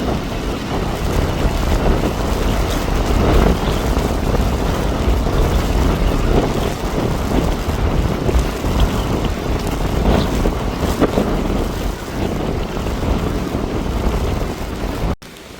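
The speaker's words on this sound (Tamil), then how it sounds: "எவ்வளோ பலமாக வந்து இந்த காற்று வீசிக்கிட்டு இருக்கு பாருங்கள்" Strong wind roars across the Jaffna coast during a low-pressure system, a loud, steady rush with microphone buffeting and possible surf beneath, continuous throughout with no speech.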